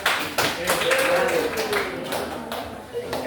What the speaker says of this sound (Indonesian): Ya, tepuk tangan untuk Hendrik ya.